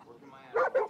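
A companion dog in the video game Far Cry New Dawn gives two quick, close barks after a brief whine.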